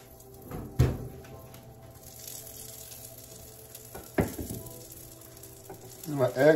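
Bread toasting in a frying pan gives a steady low sizzle, with a few sharp knocks and clatters of the pan or utensils on top.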